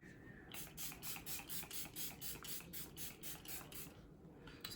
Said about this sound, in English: It's a Hydra Matte Setting Spray, and I love it.